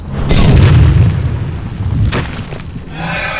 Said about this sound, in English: Oh god, they're gonna explode! Pop!